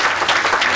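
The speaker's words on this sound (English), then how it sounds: "Let's give Sarah a round of applause." A meeting audience gives a presenter a brief, dense burst of applause, close and loud.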